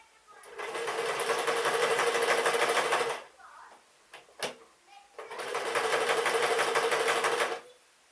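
A sewing machine stitches pink dress fabric in two long continuous runs of steady, rapid mechanical whirring, separated by a pause of about two seconds with a few small clicks and handling knocks.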